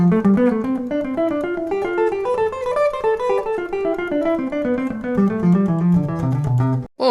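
Guitar scale exercises run at a quicker tempo in a major-scale lesson, a steady stream of close, clear picked notes moving up and down with no talking, ending abruptly.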